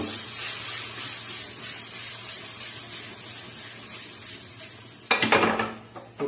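Sauteed chicken masala with added tomatoes gets stirred in a pan on a stove, a faint steady sizzle that swells into louder scraping and spattering near the end, with no voices.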